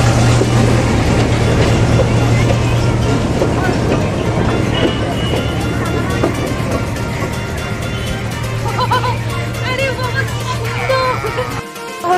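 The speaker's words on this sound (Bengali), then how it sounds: "সুন্দর টয় ট্রেন যাচ্ছে" A toy train runs along its line, giving a steady, close rumble and rattle that carries on without a break through the whole stretch.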